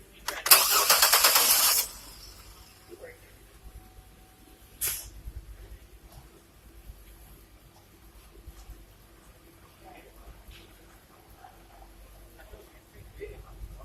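A car's starter motor cranking the engine during a battery and starter voltage-drop test: one brief, loud burst of cranking lasting about a second, then near quiet with a single click a few seconds later.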